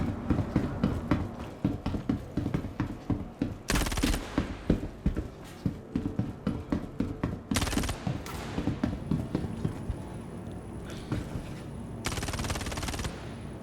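Rapid bursts of automatic gunfire in the Star Citizen video game during a bunker mission, repeated rattling volleys with sharp crackling peaks, moderately close, fading toward the end.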